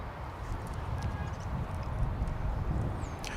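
Horse hooves clip-clop softly at a pasture beside an airport, muffled beneath steady broadband wind and traffic noise, with no talking.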